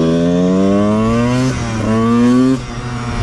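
A Honda 125 CR two-stroke motocross motorcycle engine revs loudly up close, with rising and falling buzzy tones across two or three throttle blips and a hollow, raspy character.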